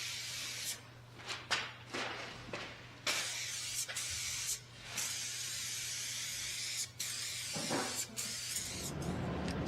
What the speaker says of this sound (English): I'm just gonna spray 1 coat of this on, and then once that dries, I can go in with my gold lacquer spray paint.